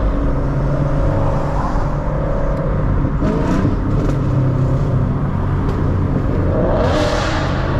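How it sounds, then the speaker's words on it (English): A Chevrolet Camaro SS engine revs hard in the rain, a loud, continuous droning roar with rising and falling pitch and wet tire hiss, heard close from inside the car. "That car is so loud."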